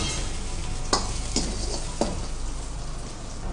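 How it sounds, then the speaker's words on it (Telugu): Chopped garlic frying in a pan for a chicken gravy, a steady close sizzle with a few sharp spoon clinks against the pan early on, no voices. "మంచిగా వెల్లుల్లి వేయించుకొని"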